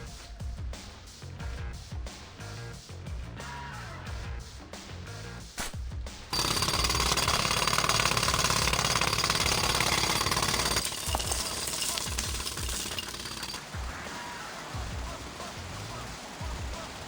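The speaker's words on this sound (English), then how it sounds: "I need more time to finish hammering the hole!" In the TMNT Mutants Unleashed video game, a jackhammer pounds into the ground, opening with rapid, stuttering bursts that give way to a loud, continuous rattling roar, which later eases slightly.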